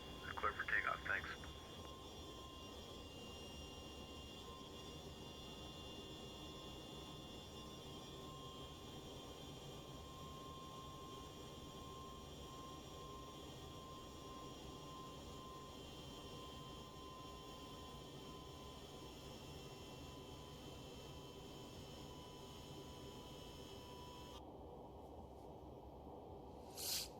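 An MD-11 jet on its takeoff run in X-Plane 12, a steady unbroken engine roar with a faint high whine held level throughout, plus brief radio chatter and a click near the start.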